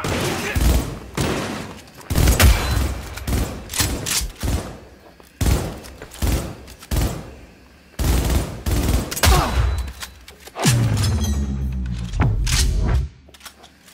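Gunfire rattles through a Cyberpunk 2077 boss fight, repeated sharp bursts and heavy thuds in close succession, loud and continuous, with shouting voices mixed in.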